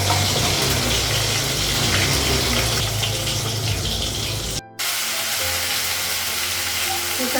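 Fish sizzling and frying in a covered pan for a Bengali fish curry, a steady loud crackle with a brief dropout before the frying hiss resumes more evenly, with no talking.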